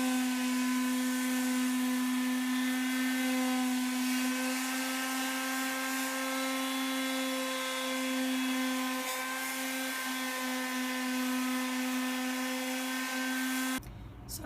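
Power sander working over a wooden desk after the drawers are removed, a loud steady whining drone that runs continuously and cuts off abruptly near the end.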